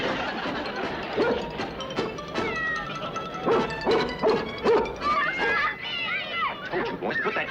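A dog barks and whimpers in a family scene from a 1969 sitcom, the sharp yelps and whines coming in bursts over steady background noise, with speech and other voices mixed in throughout.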